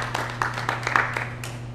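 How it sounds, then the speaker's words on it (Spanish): Brief scattered applause from an audience at a talk on whether we live in a computer simulation, a few distinct claps over a steady low hum. "un aplauso para vos"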